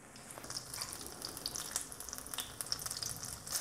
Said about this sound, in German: Und die lassen wir jetzt schön langsam goldgelb ausbacken.